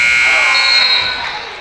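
A basketball game buzzer sounds loud and sustained at a girls' all-star seniors game, a steady electronic tone that fades slightly toward the end, with commentary voices underneath.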